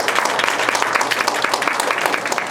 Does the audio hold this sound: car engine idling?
no